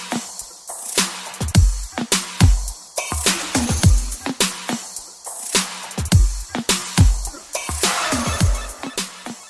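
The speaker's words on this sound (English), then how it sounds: "Once you add the main kick and snare, the hook drums sound like this." Hook drum pattern layered with a main kick and snare, from the making of a track: punchy rhythmic hits with deep kick thumps and sharp snare cracks repeating in a steady groove.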